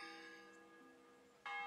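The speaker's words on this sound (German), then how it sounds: "Es läutet wahrscheinlich gerade 11 Uhr." Church bell in the medieval game Kingdom Come: Deliverance, sustained ringing tones that decay and then strike again loudly near the end, heard alone without voices.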